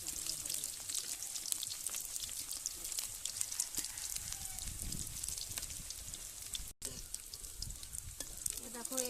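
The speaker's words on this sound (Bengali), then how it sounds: "গাছগুলো আমার ভাজা হয়ে গেল" Pointed gourd pieces fry in a pan with a steady crackling sizzle, fairly close and continuous, broken by a brief dropout, with light stirring and faint background voices.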